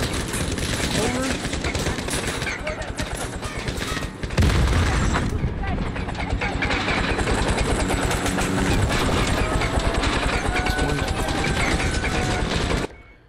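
Call of Duty Modern Warfare gameplay: a helicopter crashes amid sustained gunfire, loud dense mechanical clatter and rapid shots throughout, jumping to a heavier burst midway before cutting off near the end.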